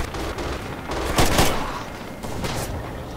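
MG42 machine gun fire in a video game: a dense, loud stretch of rapid gunfire with a sharper, heavier burst in the middle, then continued firing.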